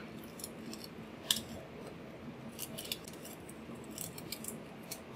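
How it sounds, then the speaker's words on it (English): Quiet, quick snips of detail scissors cutting a fringe into crepe paper repeat in an uneven rhythm against a soft background hiss, close to the listener. "take your pair of detail scissors and start cutting fringe all the way down"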